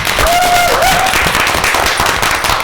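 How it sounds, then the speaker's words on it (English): An audience at a student government meeting breaks into loud, dense applause, with many hands clapping continuously and close for the whole stretch. "I want to give her a round of applause"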